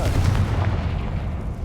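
A Confringo fire-blast spell in Hogwarts Legacy, a heavy booming impact with a deep rumbling body that lingers and slowly fades, loud and close, with no speech.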